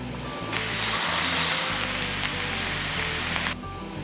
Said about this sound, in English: The water is boiling, so let's add in our noodles.